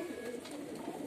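Domestic pigeons coo softly and continuously after bathing, a low murmuring chorus at close range with no talk.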